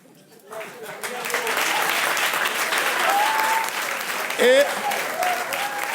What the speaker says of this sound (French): j'aimerais qu'on fasse des applaudissements très spéciaux pour ce jeune homme